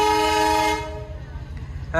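A train horn blares loud and steady for under a second as the train starts moving at a village rail crossing, then gives way to a low rumble of rolling wagons before a brief final horn.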